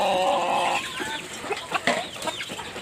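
Native country chickens of various sizes cluck together in a coop, with a rooster among them; a steady layered clucking chorus gives way to scattered, sharper calls, close by and fairly loud.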